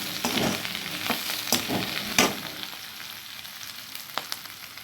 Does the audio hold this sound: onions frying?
yes